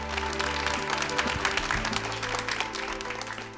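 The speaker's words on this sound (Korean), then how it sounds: "다시 한번 큰 박수 부탁드립니다" A studio audience applauds steadily at the final round of an idol trainee competition, a dense, continuous wash of clapping held over a low musical bed for the whole stretch.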